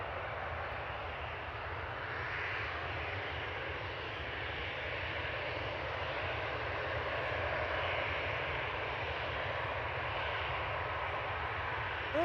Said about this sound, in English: EasyJet's heading off to München. München. With flight 2197 GZWR A320 Classic lined up and ready to go on 23 left.